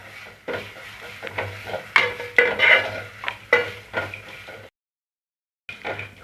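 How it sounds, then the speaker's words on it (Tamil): Grated coconut is sautéed in a pan for hotel-style tiffin sambar. A spatula scrapes and taps against the pan over a soft sizzle, with a short silent pause near the end. "நம்ம துருவி எடுத்து வச்ச தேங்காவை சேர்த்துப்போம். தேங்காய் லைட்டாக நிறம் மாறினா போதும். அது வரைக்கும் வதக்கி விட்டுட்டே இருங்க."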